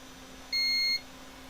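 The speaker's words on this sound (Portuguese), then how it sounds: "Eu vou pegar aqui o multímetro, colocar em escala de bip" A multimeter on its continuity setting gives one steady electronic beep of about half a second while probing a capacitor during a repair of a JBL Boombox speaker that would not power on, close and clear over faint hum.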